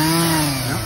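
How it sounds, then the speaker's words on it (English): Chainsaw cutting wood at a bridge construction site, engine droning at steady high revs, loud and close, running continuously without pause. "Here we go, some more chainsaw."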